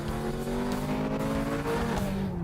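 A Ferrari California with a seven-speed dual-clutch transmission accelerates hard at full throttle low in the rev range, its engine note loud, close and steadily climbing in pitch throughout, with no talk.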